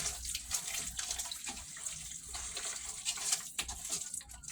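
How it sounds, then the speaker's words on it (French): Lukewarm water pouring into a cup, a soft continuous trickle and splash with slight changes in flow, faint and close, no talk. "Voilà de l'eau tiède, je vais mettre de l'eau dedans"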